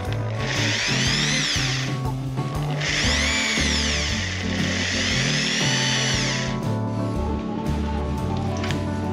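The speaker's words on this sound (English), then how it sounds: "I mark in advance the place that I will drill." A power drill with a 3 mm bit whines loudly through metal in two long sustained runs, the pitch wavering, with a steady motor hum underneath.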